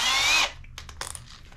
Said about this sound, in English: the key is to drill real slow, because the faster that you drill through silicone